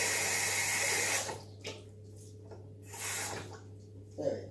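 Running tap water pours over an onion at a kitchen sink, a steady near splash for about a second, then a few shorter bursts as the onion is turned under the stream.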